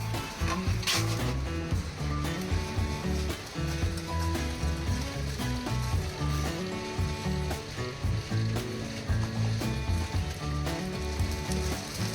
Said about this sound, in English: The hot sand rapidly transfers heat to the rice, causing instant puffing through moisture vaporization inside the grains.